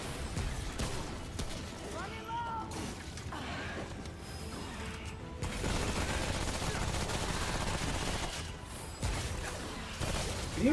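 Sniper rifle gunfire in the game Remnant: From the Ashes, a few sharp shots amid a busy, continuous mix of combat noise and game sounds, with a voice talking briefly over it.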